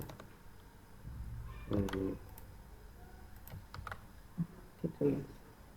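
Computer keyboard being used to type a password, quiet scattered key clicks in short bursts with soft room noise, a few louder clusters of taps near the middle and end.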